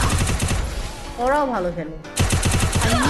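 Rapid bursts of gunfire from the video game Free Fire land headshots, loud and close. A player's voice speaks over the shots partway through, and the firing picks up again afterward.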